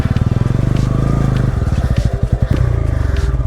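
A motorcycle engine chugs with steady, rapid pulses, close and loud, while the bike is pushed along a rough trekking path in the Emuli Grasslands near Anini, with some rustling and scraping mixed in.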